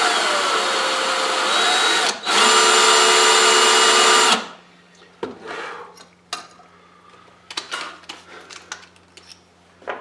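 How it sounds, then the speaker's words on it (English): A loud power drill whines against the metal base plate of a Dinky or Corgi die-cast toy car for a few seconds with a brief pause, then stops, followed by scattered clinks and scraping of tools. "So I'm just going to go into this punched area now and drill it."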